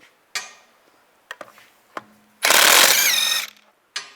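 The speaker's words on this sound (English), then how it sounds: "to remove the wheel, use a 17mm socket. Take these lug studs out." Lug studs on a 2004-2010 BMW X3 wheel loosened with a 17mm socket: scattered metallic clicks and clanks, then a loud sustained burst of an impact wrench whirring for about a second, ending with another sharp clack.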